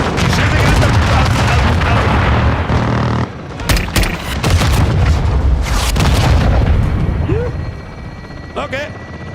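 Air support strike explosions in Call of Duty MWII, heavy booming blasts landing one after another with sharp cracks of gunfire between them, loud and close, while someone talks over the action.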